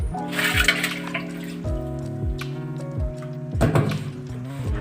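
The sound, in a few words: stirring Eno-mixed water inside an old clay pot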